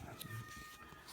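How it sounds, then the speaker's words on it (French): A cat meows faintly in the background of a quiet indoor room during a board game unboxing, a few soft calls low under the room tone. "on va avoir le chat en fond"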